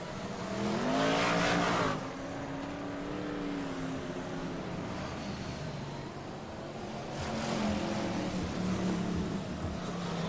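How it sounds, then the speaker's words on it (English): BriSCA Formula 1 stock cars roar past on the Kings Lynn track, engines rising and fading in waves, with a steady motor drone in between and no talking. "The rest of the cars coming in."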